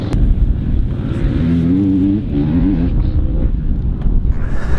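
A motorcycle on its break-in run at a training ground, engine pulling hard at low rpm, a loud, close, throbbing drone that rises and falls slightly with heavy wind buffeting.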